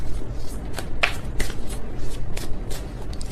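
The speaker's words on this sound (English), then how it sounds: "That was kind of a sloppy shuffle" A deck of tarot cards is shuffled by hand in a slightly sloppy way, giving close, crisp flicks and riffles in irregular bursts with no talk.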